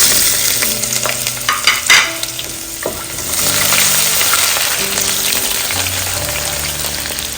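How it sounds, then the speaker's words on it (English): Onions and green chilies fry in a pan of oil with dry spices, giving a steady loud sizzle broken by a few sharp spatters and clinks of stirring near the start, and no voices. "At this point, we're going to be adding our onions and garlic."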